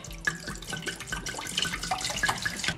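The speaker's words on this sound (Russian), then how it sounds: "Тогда я наливаю вино." Red wine poured from a bottle into a pot for mulled wine in a home kitchen: a steady, close liquid trickle with small splashes and glugs running throughout.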